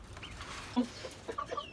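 Chickens cluck in a rooftop garden in the afternoon: a few close, fairly soft clucks and short calls scattered over a quiet background, with one louder cluck near the middle.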